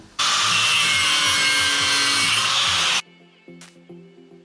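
A 2-inch piece is cut for a KTM 530 tracker motorcycle build, producing loud, steady, harsh sawing for about three seconds that stops abruptly and is followed by quieter clanks and knocks.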